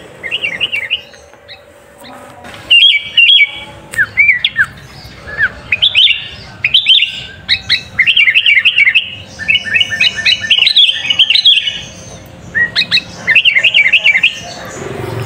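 White-rumped shama (murai) songbirds chirping in short, bright, rapid bursts of repeated notes, close and loud, with brief pauses between phrases over a faint background rumble.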